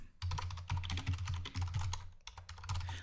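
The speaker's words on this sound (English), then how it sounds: "let's go ahead and just type in a name here" Steady typing on a computer keyboard while entering a name into a database form, rapid close key clicks in continuous bursts with a short pause midway.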